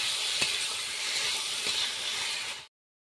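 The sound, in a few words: fried potatoes sautéed in spice paste, sizzling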